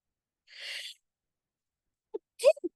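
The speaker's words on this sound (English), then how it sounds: "hold on, I gotta sneeze." A single sneeze breaks the silence, followed a moment later by a few short breathy sounds.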